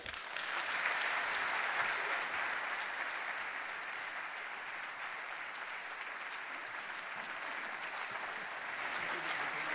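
A large audience applauding after a speech by Presidente Renzi at the Borsa in Milano, steady continuous clapping throughout with a faint murmur of voices underneath.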